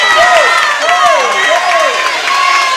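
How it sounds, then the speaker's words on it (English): Teammates at a swim meet cheer on a swimmer, a loud, close crowd of voices rising and falling in repeated, chant-like calls that fill the space continuously. "You see the Sterling teammates are cheering her on."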